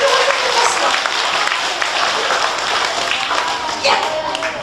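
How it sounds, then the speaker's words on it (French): Loud, close applause from a classroom of children clapping for a boy, dense and continuous with a few voices calling out over it. "On peut l'applaudir bien fort."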